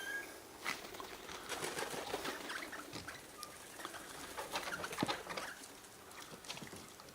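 Wild birds at a feeding spot in Loch Sport, Australia, make quick scuffles, pecking patter and brief fluttering wingbeats close by. Small bursts stand out against a faint outdoor background.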